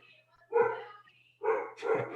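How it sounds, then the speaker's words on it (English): A pet dog barks at something indoors, three loud, close barks in quick succession with short pauses between them. "Sorry, that's my dog barking at something."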